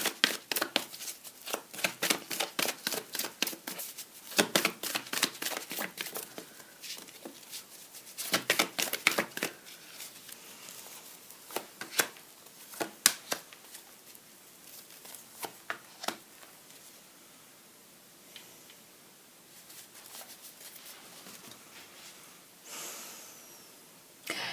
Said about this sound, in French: Allez, retirez 3 cartes. 3 cartes en progression pour voir comment ça va évoluer.